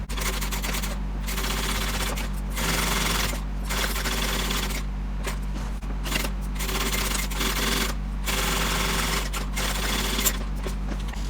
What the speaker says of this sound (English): Then we're going to sew it with the seam allowance given in the pattern.